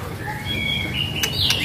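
A magpie-robin (murai) gives a few thin, clear chirps and whistled notes over steady room background noise.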